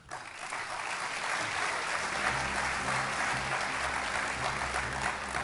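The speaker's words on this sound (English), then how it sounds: "Let's give Harvey a good round of applause." A room of attendees at the WASTECON 2013 awards breakfast gives sustained, even applause for an honoree, a thick, loud wall of clapping that starts abruptly and holds steady, with a low hum beneath.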